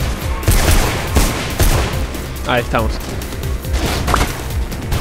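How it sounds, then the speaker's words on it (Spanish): Gunfire in the video game Mirror's Edge, a loud rapid volley of repeated shots with sharp cracks and thuds across the whole stretch, while someone speaks briefly over it. "Sí, escucho disparos"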